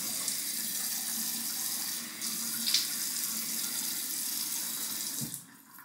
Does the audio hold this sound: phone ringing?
no